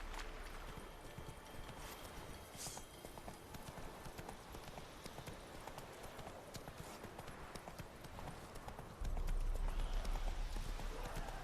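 Rapid hoofbeats of a horse galloping in The Witcher 3 video game keep up a steady clip-clop rhythm throughout, close and continuous, growing slightly louder near the end.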